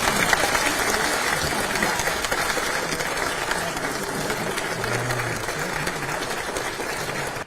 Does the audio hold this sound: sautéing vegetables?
no